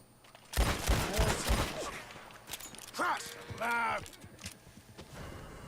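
Gunshots in the Western game Red Dead Redemption 2, with a rapid cluster of loud cracks early on and a few more later, mixed with creaks, movement noise and some speech.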